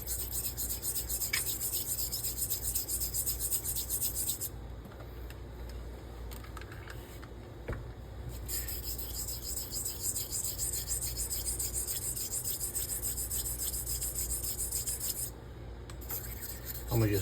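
Straight razor honed on an Ardennes coticule stone with light pressure, a steady close swishing rasp of repeated strokes, quiet and continuous with brief pauses between passes.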